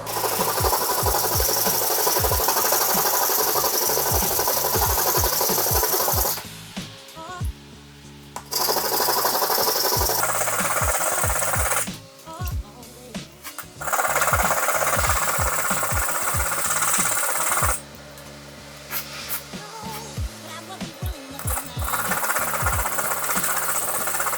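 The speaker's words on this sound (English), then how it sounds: "probably about an hour of just solid scrubbing" Hand scrubbing an old Gyuto kitchen knife blade during restoration: steady, loud rhythmic rasping strokes continue throughout, broken by two short pauses, with no talking.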